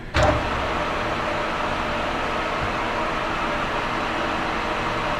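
A machine spindle motor, on a catapult-wheel build, starts up with a brief onset and then runs as a steady, loud broadband whir that holds unchanged for several seconds with no talking.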